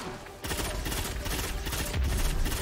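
Rapid, sustained gunfire from the Bad Juju pulse rifle in a multiplayer shooter match, a dense continuous burst starting abruptly and running loud and close throughout.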